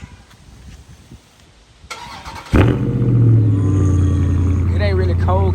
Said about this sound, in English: All right. Cold start.